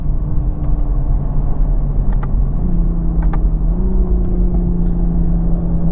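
A 2020 Toyota Supra in sport mode accelerates around a race track on a cold day. Its engine gives a loud, close droning rumble that steps up in pitch as it revs through the gears, with faint clicks and whirs on top.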